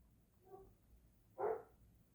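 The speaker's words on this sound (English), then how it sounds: "And I know y'all just heard my dog bark," A single dog bark rings out indoors at moderate volume, a brief sharp burst preceded by a faint whimper-like sound.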